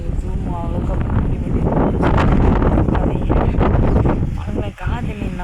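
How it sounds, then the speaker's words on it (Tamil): Strong village wind roars steadily against the microphone, a loud continuous rush with a brief dip near the end, and a voice speaks faintly beneath it. "காற்று நிற்க கூட மாட்டேங்குது"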